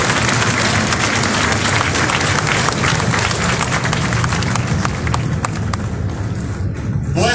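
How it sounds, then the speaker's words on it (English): A large crowd applauds recruiters and combat instructors at a US Marine Corps graduation ceremony in San Diego, loud dense clapping sustained throughout and tapering slightly into scattered claps near the end. "a round of applause for our recruiters and our combat instructors."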